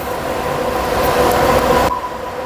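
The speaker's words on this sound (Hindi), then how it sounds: "अभी दोस्तों मैंने कूलर चला लिया है" An air cooler and a ceiling fan run indoors, making a steady, loud broadband whoosh with a faint tonal hum that drops off sharply near the end.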